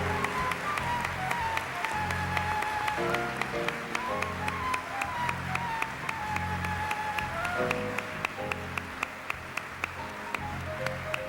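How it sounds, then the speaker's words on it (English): An audience at the 1994 BEYA awards gala applauds an honoree, a steady wash of clapping under music playing throughout, with faint regular clicks running through it. "Let's give a round of applause to Marcus Shute."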